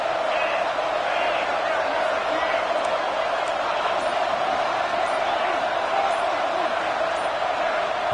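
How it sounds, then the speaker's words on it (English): A stadium crowd roars without letup at a Syracuse versus Georgia Southern football game, a dense, loud wall of noise that holds steady throughout. "And with this place rocking, the crowd forces a false start."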